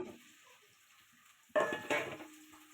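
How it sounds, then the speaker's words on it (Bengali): Onions drop into hot oil in a kadai for duck curry and burst into a loud sizzle after a quiet start, then frying continues with a second surge before easing to a steady hiss. "কড়াই দিয়ে দিছি এখন আমি তেল দিয়ে দিচ্ছি রান্না করব হাসে অনেক তেল এ হচ্ছে পেঁয়াজ দিয়ে দিলাম"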